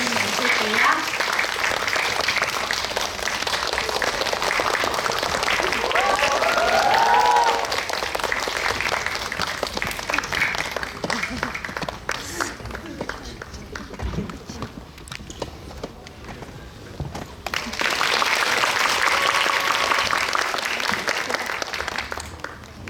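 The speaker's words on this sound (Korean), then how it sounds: "큰 박수로 맞아주세요." A cinema audience at a special screening with cast and director gives loud, sustained applause that swells and fades across more than twenty seconds, with voices talking over and between the clapping.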